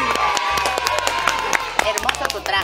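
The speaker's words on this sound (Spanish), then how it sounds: "Un aplauso para ella." An audience claps and cheers for a guest on a lively variety show, a burst of dense handclaps with whoops and crowd noise mixed with speech.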